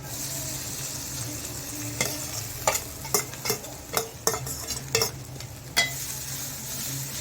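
Dry fruits and grated coconut sautéing in ghee, a low steady sizzle with a series of distinct stirring scrapes and light spoon clinks against the pan at irregular intervals.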